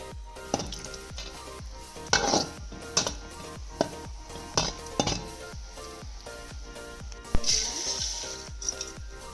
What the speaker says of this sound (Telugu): అదే ఆయిల్లో సేమియాను కూడా వేయించుకోవాలన్నమాట